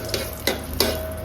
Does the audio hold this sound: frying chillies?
yes